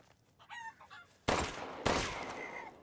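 A white chicken or rooster in the game Resident Evil Village clucks briefly and faintly, then two sharp loud gunshots ring out in quick succession, each trailing off.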